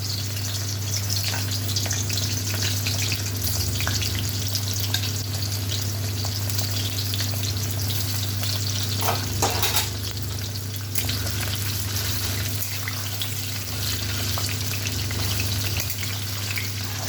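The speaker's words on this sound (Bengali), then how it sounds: "এখন ফুলকপিগুলো ভেজে অল্প অল্প ভেজে, বেশি ভাজবো না, অল্প ভেজে তুলে নেব" Cauliflower pieces fry in hot refined oil in a kitchen pan, giving a continuous loud hiss and sizzle with occasional stirring scrapes, steady throughout with no voices.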